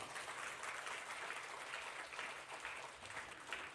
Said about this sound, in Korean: 다 함께 축복의 박수를 보내주시겠습니다